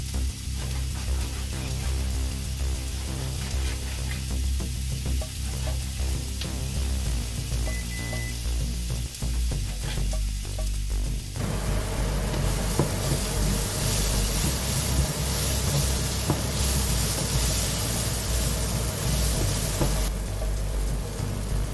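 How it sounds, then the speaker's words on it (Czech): Chopped onion fries in oil in a pan while preparing meat on vegetables with rice, giving a steady broadband sizzle that grows brighter and hissier partway through, continuous and close with no talking. "Mezitím, co se nám cibulka smaží"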